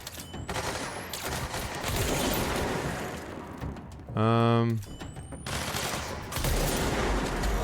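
Gunfire in the video game Control, bursts of rapid shots and booming impacts in a chaotic firefight, loud and dense, with a voice speaking over it.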